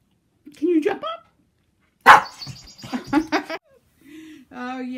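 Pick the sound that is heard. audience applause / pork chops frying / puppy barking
puppy barking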